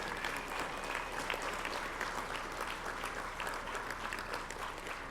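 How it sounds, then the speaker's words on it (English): A crowd at an Assembly of First Nations gathering applauds the National Youth Council's young leaders, with continuous, even clapping from many hands and no voices heard. "If you would join me in providing a strong round of applause"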